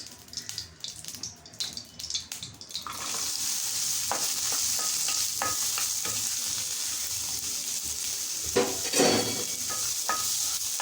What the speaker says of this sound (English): Now add 1 more spoon of oil and now we have to fry the onions.